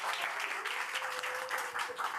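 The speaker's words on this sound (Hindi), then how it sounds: "क्यों ना हम एक जोरदार तालियों से उनका स्वागत करें।" Enthusiastic applause from a church congregation at a Hindi worship service, welcoming a guest speaker, dense steady clapping throughout with no break.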